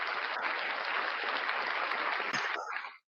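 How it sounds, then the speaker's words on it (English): Steady burst of hand clapping, dense and close, holding evenly for about three seconds before cutting off abruptly. "let me give myself a round of applause for that"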